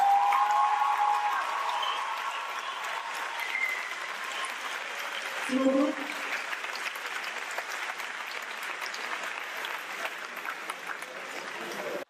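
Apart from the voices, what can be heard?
audience applause and cheering for Anthony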